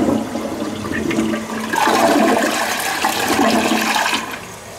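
A Kohler toilet in a San Antonio hotel bathroom flushes with a loud, close rush of water that swells after the first second and keeps gurgling steadily before easing off.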